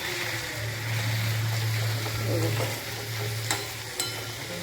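Methi (fenugreek) bhaji cooks in a pan, giving a soft, steady sizzle with low stirring and bubbling, a couple of sharp clicks near the end, and no talk.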